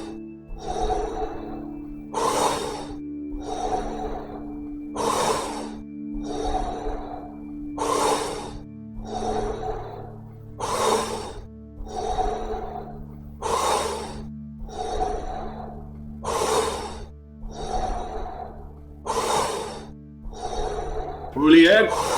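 Fast-paced Wim Hof breathing: a steady series of about ten deep, forceful inhales and exhales in a regular rhythm, close and loud, with a low steady hum of background music underneath.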